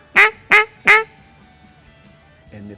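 Three loud, nasal quacks from a duck call mimicking a hen duck, evenly spaced and close, then a faint quiet stretch before a brief low rustle at the end.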